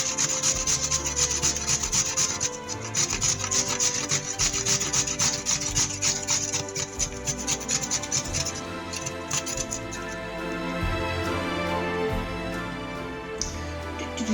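Steady rhythmic rasping as potatoes are grated back and forth over a grater, continuous and close for the whole stretch.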